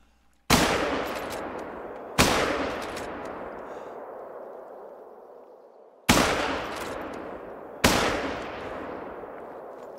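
Four loud rifle shots fired at an animal while hunting in theHunter: Call of the Wild, each a sharp crack followed by a long echoing decay, spaced irregularly over ten seconds, with no talking.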